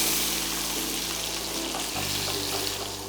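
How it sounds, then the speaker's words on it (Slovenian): Chopped onion frying in melted fat in a pan for beef roast, a soft steady sizzle with faint crackles, fairly quiet and continuous throughout. "In bomo na njem popražili čebulo"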